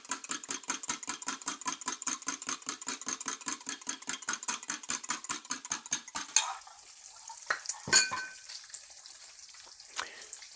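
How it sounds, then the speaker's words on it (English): Eggs beaten in a bowl with rapid, even whisking strokes, roughly five per second, close and clear for about six seconds before giving way to a few scattered clinks and knocks. "I'm going to beat my eggs"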